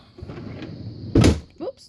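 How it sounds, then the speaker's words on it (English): Pantry drawers pulled out on their runners, with soft sliding rattles followed by one sharp, louder clunk near the middle and a brief scrape after it, close up with no voices. "and the drawers come out."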